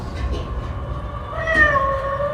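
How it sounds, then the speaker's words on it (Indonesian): A cat meows from inside a ventilation duct in the horror film Evil Dead Rise, a drawn-out, wavering mew rising over a low, rumbling background. "Ellie yang mendengar kucing dari ventilasi segera menyusup ke situ."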